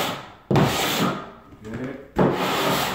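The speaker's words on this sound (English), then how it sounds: "And here I'm just scraping the lap marks." Joint compound lap marks on drywall being scraped off by hand, two long rasping strokes with a pause between them, close and loud, with a single brief spoken word.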